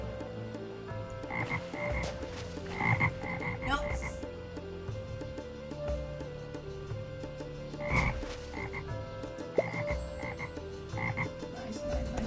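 Frogs croak repeatedly in a video game, their calls steady and prominent through a busy mix of game sound, with one brief spoken word.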